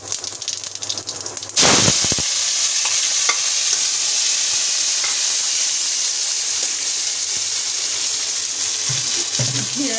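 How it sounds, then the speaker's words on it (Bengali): Whole cumin seeds drop into hot oil in a village kitchen and burst into a loud, steady sizzle that fills the space close by and holds evenly for several seconds after a quieter start. "চুলার কাছে চলে আসলাম, তেল গরম হয়ে গেছে, গোটা জিরা দিয়ে দিলাম।"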